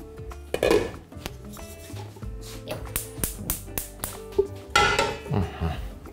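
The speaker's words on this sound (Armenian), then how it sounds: "Վերցնում ենք մեծ կաթսան։" A large metal pot is picked up and set down by a fire, giving hollow clanks and metallic knocks, with scattered taps and clatter continuing while a person talks over it.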